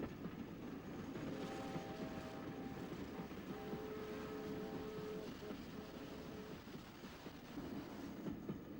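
The Flying Scotsman steam locomotive arriving on standard gauge track in Victoria, Australia, a faint, distant rumble of rolling wagons with brief whistle-like tones, heard alone throughout.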